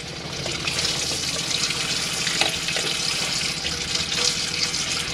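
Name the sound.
warm water running from a pumped tap in a caravan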